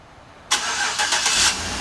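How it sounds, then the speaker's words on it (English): A 2011 Chevrolet Suburban LTZ engine fires up by remote start: a quiet lead-in, then a sudden crank and catch that settles into a steady idle with a couple of small surges. "and the car starts right up."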